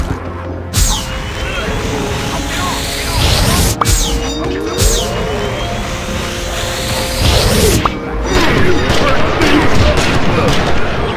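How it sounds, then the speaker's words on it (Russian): Loud gunfire and explosive booms in the action game Oddworld: Stranger's Wrath, with sharp blasts, crashes and whooshing shots in rapid bursts, dense and close, as someone talks over the fighting. "Ты чё так громко там стреляешь-то?"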